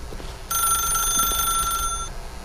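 A telephone rings in The Stanley Parable as a steady electronic trill with bright harmonic tones, starting abruptly and holding for about a second and a half over a low background hum before cutting off.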